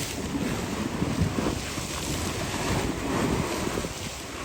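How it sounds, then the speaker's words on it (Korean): Strong wind and rough, choppy water at a waterfront with container ships in Türkiye in below-freezing weather: continuous loud roaring gusts buffet the microphone over churning waves, with no pauses. "바람이 강해가지고 그런가 물살이 미쳤습니다"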